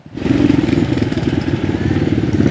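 A motorcycle engine runs at the start of a mountain ride, idling and rumbling loudly and steadily up close for the whole stretch.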